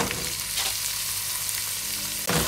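Beef sautéing in a pan with garlic for a beef and string bean dish: steady close sizzling and crackling throughout, with a brief stir and a short dip near the end, no talking.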